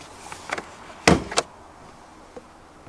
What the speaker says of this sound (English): So we'll go ahead and pop the hood.